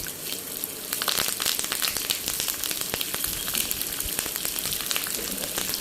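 Curry leaves spit and crackle in hot oil while tamarind rice is being made: dense, continuous sizzling with sharp pops scattered throughout, close up and steady, with no voices.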